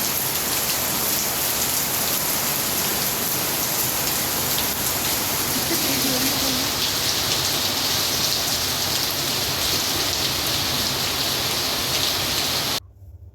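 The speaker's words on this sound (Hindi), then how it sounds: "बहुत तेज़ बारिश है भाई" Heavy rain pours down in a steady, loud, dense hiss that continues throughout and drops away abruptly at the very end.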